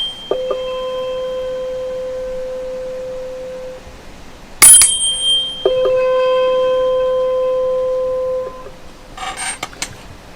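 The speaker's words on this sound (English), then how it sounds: "I've got top C here" Top C tuning fork struck twice, each strike giving a clear high steady tone that rings for a few seconds and decays, with sharp metallic taps between strikes and handling clatter at the end.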